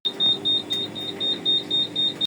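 A faulty cash register alarm beeps piercingly, rapidly and repeatedly at a steady pulse, loud and close, with faint background noise underneath.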